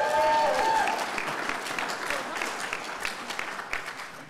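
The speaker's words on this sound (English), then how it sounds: "Let's give her a round of applause." A town hall room full of people claps steadily, a brief whistle at the start, the applause gradually thinning toward the end.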